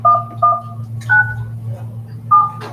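Telephone keypad tones beep in a short sequence as a password and the pound key are entered, each dual-tone press clear over a low steady hum.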